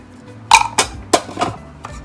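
A broccoli chicken salad being tossed in a bowl, with four or five sharp clinks and scrapes of a utensil against the dish, close up and spaced irregularly over quiet background.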